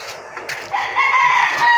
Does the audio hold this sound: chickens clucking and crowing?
yes